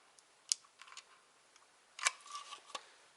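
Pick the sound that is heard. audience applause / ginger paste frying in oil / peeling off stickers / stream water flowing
peeling off stickers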